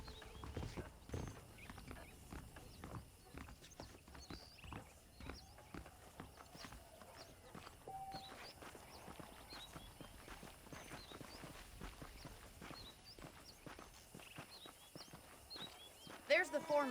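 Horse hooves clip-clop in a steady walking rhythm in the video game Red Dead Redemption, fairly faint, with people talking over them throughout.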